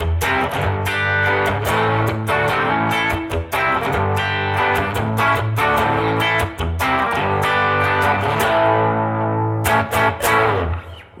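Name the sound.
electric guitar crunch tone, bridge pickup, riff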